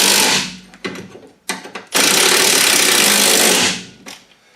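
Bolts on a vehicle's rear suspension are tightened with a power tool: short whirring bursts, then a longer sustained run of about two seconds, loud and close.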